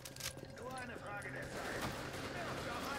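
Gunfire from the video game The Division rattles through the whole stretch as dense, continuous shooting, mixed with game effects and some speech-like sound.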